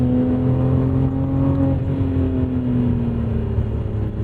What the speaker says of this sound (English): do I love that naturally aspirated engine